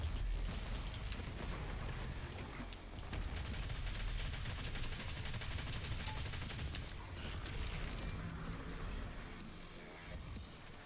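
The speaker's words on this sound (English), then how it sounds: "Again with this rocket launcher." Rocket launcher fire in the shooter DOOM Eternal, a dense, quiet barrage of blasts and explosions mixed with heavy combat noise that rolls on continuously with only brief dips.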